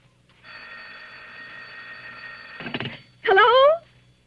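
A telephone sound effect in a 1940s old-time radio murder drama: a steady electric ring buzzes for about two seconds, followed by a clunk of the receiver and a brief loud tone, heard alone without talk.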